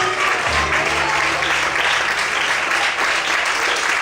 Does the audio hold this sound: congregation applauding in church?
yes